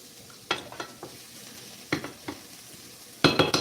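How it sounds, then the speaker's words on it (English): Chilli ingredients sauté in a pan under a low background sizzle, broken by sharp scraping stir strokes in several short bursts. "we've allowed that to saute."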